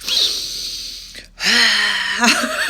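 A voice imitates deep, heavy yoga-class breathing, with two long, loud, close breaths, a gasping inhale and a drawn-out exhale, separated by a brief pause.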